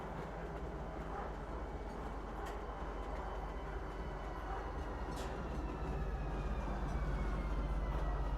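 A train in the Star Citizen video game rolls steadily along with a continuous low rumble and faint clatter, growing slightly louder toward the end, with no voices.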